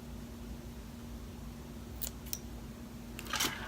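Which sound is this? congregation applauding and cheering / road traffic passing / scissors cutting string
scissors cutting string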